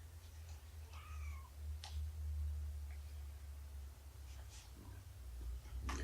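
A kitten meows a few times, faint and high, over a steady low rumble while a mother cat nurses it in the morning.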